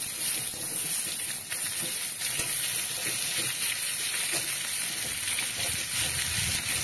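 Mango pieces dropped into a hot pan for a fish and mango sour dish sizzle and fry steadily, a dense continuous crackle with occasional stirring scrapes throughout.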